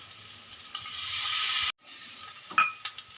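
Water poured into a pan of frying potato and hilsa curry, loud oily sizzle that drops out abruptly, then returns softer with a few clinks and bubbling hisses.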